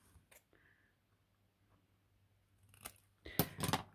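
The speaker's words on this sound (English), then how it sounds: "If you haven't got a rounding corner thing, snip the corners off if you want to." Scissors snip the corners off a piece of card: one soft cut early on, then a quick cluster of sharp, close snips toward the end, with no talking.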